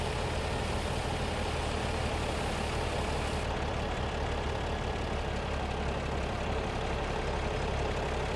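A heavy truck engine in Farming Simulator 17 idles steadily at close range, a continuous low rumble that holds unchanged throughout with no talk over it.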